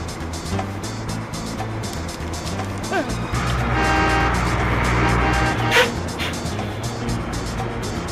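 A car drives through busy traffic, its engine steady and close, and a tire squeal rises briefly near the middle. Someone speaks over the engine noise.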